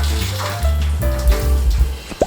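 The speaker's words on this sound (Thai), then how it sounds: "น้ำมันเดือดแล้วนะครับ เดือดมากๆเลย" Oil bubbles hard in an electric air fryer heating toward 180 degrees, giving a steady close hiss and seething churn, with occasional pops and a low hum from the appliance.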